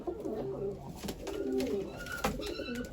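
Soft cooing and low murmuring calls from pigeon chicks, close by and fairly quiet, with a faint voice mixed in at times.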